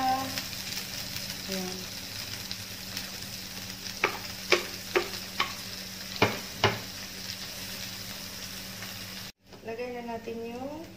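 Ginger frying in a hot pan gives off a steady sizzle, punctuated midway by a run of sharp, evenly spaced utensil taps, while a voice speaks briefly at the start and again near the end.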